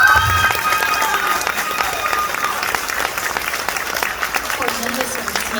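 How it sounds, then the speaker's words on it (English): An audience at a queen pageant contestant event gives sustained applause, steady dense clapping throughout with some murmuring voices underneath, fairly loud and even. "I think they deserve a big round of applause"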